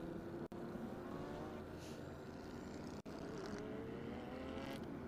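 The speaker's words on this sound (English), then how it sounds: "It's a 2013 Ferrari 458 Challenge Series machine." A 2013 Ferrari 458 Challenge race car at Sonoma Raceway, its engine droning steadily at a moderate distance, holding a sustained, fairly even note with slight pitch shifts and no talking.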